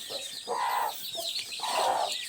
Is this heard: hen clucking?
yes